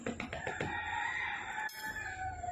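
A chicken clucks and crows close by in an outdoor home setting, several short calls in quick succession, with no talk over them.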